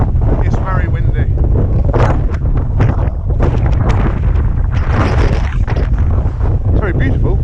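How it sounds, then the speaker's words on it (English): Heavy outdoor wind buffets the microphone in strong continuous gusts, loud rumbling throughout, with a voice talking faintly beneath it. "it's very windy."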